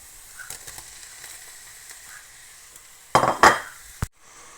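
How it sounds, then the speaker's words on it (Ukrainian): Quiet kitchen ambience, then a sudden burst of clattering and sizzling as mussels tumble into a hot frying pan with garlic, followed by a sharp clink. "Тепер засипаємо мідії сюди."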